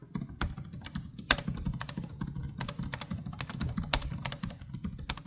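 Typing on the keyboard of a 2025 Gigabyte A16 Pro gaming laptop: a steady, fast run of crisp, close plastic key clicks with no voices.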